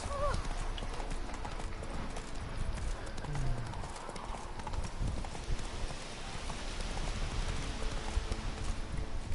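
The horse Roach galloping in The Witcher 3, rapid rhythmic hoofbeats running throughout, close and steady, with someone talking over them.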